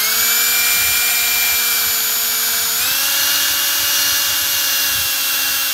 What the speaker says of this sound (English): then I can use the eraser wheel to try to get the rest of the sticky stuff off